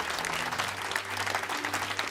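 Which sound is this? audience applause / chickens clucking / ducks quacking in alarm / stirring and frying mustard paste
audience applause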